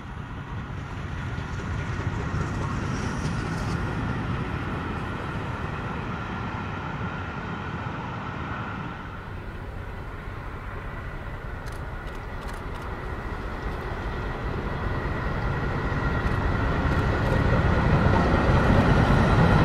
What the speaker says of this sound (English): Clan Line races past Beeston Castle just a few miles from its destination at Chester.